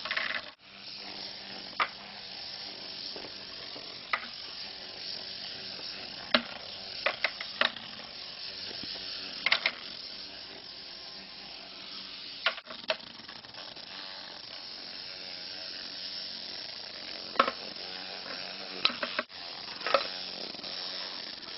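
A vibrating toothbrush bristlebot robot driven by a small battery-powered motor runs across a surface, giving a steady buzzing rattle with scattered sharp clicks and taps throughout.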